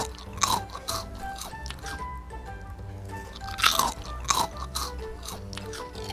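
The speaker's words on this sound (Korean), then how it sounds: "진짜 더 바삭한 것 같아요. 바삭바삭." Crisp crunching as a crispy snack is bitten and chewed during a simple home science experiment on sight and hearing; several sharp, close bites stand out over steady chewing, with no talk.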